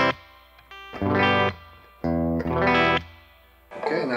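Electric guitar chords through a Fender Blues Jr III tube amp strummed and left to ring with a wash of reverb, two long swells separated by brief pauses, then a shorter phrase.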